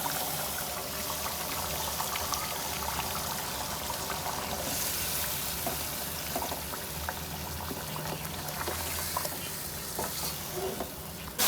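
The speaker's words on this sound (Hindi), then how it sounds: "देखिए अच्छी तरह मसाला भुन गया है। अब मछली डाल देते हैं।" Fish pieces go into fried masala in a hot pan for a homemade Hyderabadi fish dish, giving a continuous close sizzle with crackling pops and stirring scrapes throughout.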